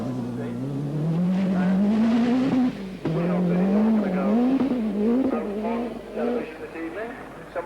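An Audi Quattro rally car on a forest stage of the 1985 Lombard RAC Rally, its engine loud and close, climbing and falling through gear changes with a brief lift in the middle, while a commentator talks over it.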